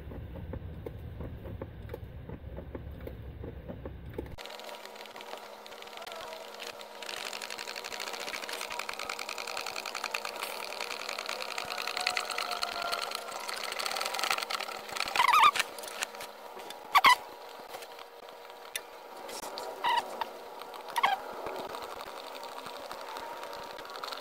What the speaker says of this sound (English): This is the pump, quart and gallon fluid pump.